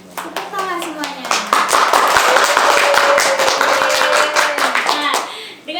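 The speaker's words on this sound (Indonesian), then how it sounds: "Tepuk tangan semuanya" A crowd claps for a guest at a podcast-style event, lively close handclaps rising quickly and holding steady, with voices calling out and chattering over the applause.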